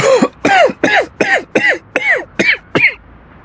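A person gives eight harsh, evenly spaced coughs in quick succession, loud and close, each a short burst with a brief pause between.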